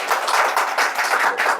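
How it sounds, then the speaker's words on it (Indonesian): Audience applause at an Indonesian talk show on angklung culture, steady dense clapping from a crowd filling the whole short stretch without voices. "Tepuk tangan dong untuk"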